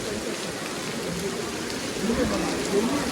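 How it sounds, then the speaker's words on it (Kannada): Heavy rain pours down steadily at Dharmasthala, a dense, constant hiss that swells slightly toward the end. "ಹೆಂಗ್ ಬರ್ತಿದೆ ನೋಡಿ ಮಳೆ ಹೆವಿ ಮಳೆ ಬರ್ತಿದೆ"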